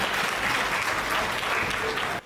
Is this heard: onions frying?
no